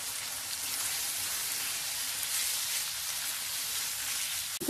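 Chicken liver sizzles and fries steadily in a pan, a continuous soft crackling hiss with no voices, ending in a brief clink.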